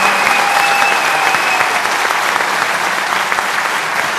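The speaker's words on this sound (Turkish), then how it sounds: "Gazilerimiz, alkışlıyoruz." An audience applauds veterans at a public event, steady loud clapping from a large crowd filling the whole stretch, with a faint voice briefly under it.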